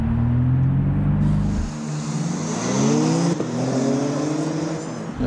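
A facelifted BMW M3 Touring accelerates hard from inside the cabin, its engine note climbing through the revs, dropping at a gearshift and rising again as a steady, fairly loud interior rumble without talk.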